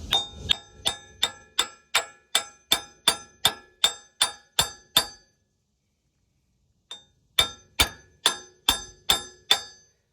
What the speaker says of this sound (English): Have a hammer, and just kind of knock that into place.